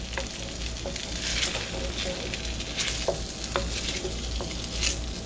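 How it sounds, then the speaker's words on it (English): Strips of pepper steak stir-fry in a hot pan, giving a steady close sizzle broken by the scrape and clack of a utensil stirring, with no talking. "you're just going to want to stir fry these to the doneness that you like"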